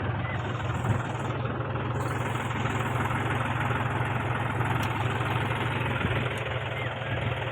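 A farm tractor engine idles with a steady, low, throbbing rumble that continues evenly throughout, loud and close.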